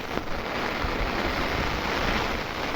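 Heavy rain driven by strong wind on a farm where buffaloes are kept, a dense, steady roaring wash that fills the whole clip with gusty rumble and no voices.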